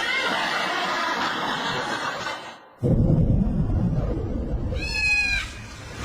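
A cat gives a short, clear meow near the end, after a stretch of background sound and voices in an indoor room.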